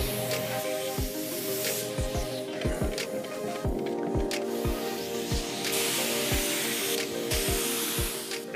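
A spray gun lays a dark grey ground coat over primer on a 1986 MG Montego Turbo during restoration, a steady loud hiss running the whole time with repeated low thumps and knocks underneath.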